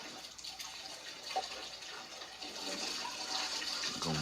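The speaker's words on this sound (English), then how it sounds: "Gonna water it down with some fresh water" Fresh water runs steadily over a piece of just-caught fish outdoors, a soft continuous splashing hiss that grows slightly stronger toward the end, faint and alone.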